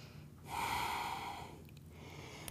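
A single long, breathy exhale during a standing dynamic stretching exercise, close and soft, rising quickly and then tapering off slowly. No one speaks.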